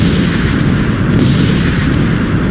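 Continuous loud, rumbling blasts fill a Fallout: New Vegas casino as planted bombs go off, a dense wall of explosion noise with no voices over it.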